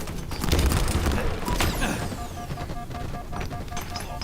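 A grenade blast in the shooter game Halo Infinite: a loud booming explosion rolls out early, mixed with game gunfire and effects, then decays into scattered game sounds.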